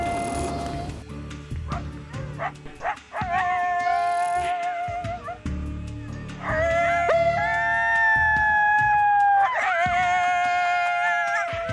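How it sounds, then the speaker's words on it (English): An electronic predator call plays a coyote pair sound loudly outdoors, yips and barks giving way to long rising and wavering howls, two voices overlapping near the end. "I immediately turned on coyote pair, and I played that sound as loud as it could"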